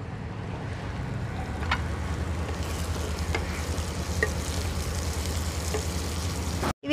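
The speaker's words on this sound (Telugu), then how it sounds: "ఆనియన్స్ ఫ్రై అయిపోయింది" Onions frying in a pan for an oyster mushroom curry, a steady close sizzle and crackle running throughout with a few faint clinks, no talking.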